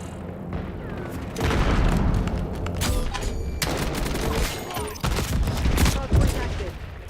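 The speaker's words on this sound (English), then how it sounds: "Using hand cannon." Heavy hand cannon gunfire in a ranked online shooter match, loud repeated booming shots and blasts packed together, with brief pauses and in-game announcer voice lines mixed in.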